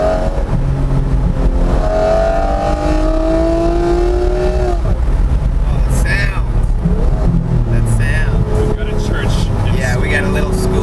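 A Lamborghini Murcielago LP670 SV is driven up a mountain road, its engine loud and close as it revs and climbs in pitch in rising sweeps. Voices talk over the engine noise.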